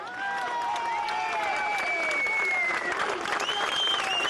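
Crowd outside a hospital applauding and shouting as an ambulance arrives, steady dense clapping with raised voices and whistles mixed in, loud and close throughout.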